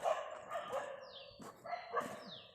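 A dog barks a few times at a banana farm, short yelping barks with brief pauses, somewhat distant and faint, no talking.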